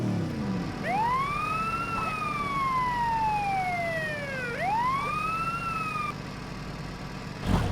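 A police motorcycle siren in the Lego Worlds video game wails in long rising and falling sweeps, clear and steady over a faint engine hum, with a sharp noise burst at the very end.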